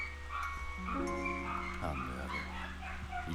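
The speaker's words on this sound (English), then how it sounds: "If anyone is wondering what that noise is, yeah, that's my dogs." Dogs barking in a home, repeated yips and barks under a steady background with game music and a faint voice.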